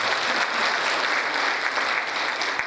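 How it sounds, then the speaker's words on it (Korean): An audience at a lecture on North Korea breaks into dense, steady applause, a continuous wash of many hands clapping at even loudness. "다시 한번 좋은 강연을 해주신 글라이스 사무처장님께 큰 박수 부탁드립니다."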